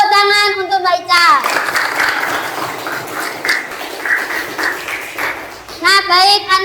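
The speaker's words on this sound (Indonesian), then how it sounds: "tepuk tangan untuk Mbak Ica." Children in a classroom burst into applause for a classmate, a dense patter of small hands clapping for several seconds, with young voices talking and calling at the start and end.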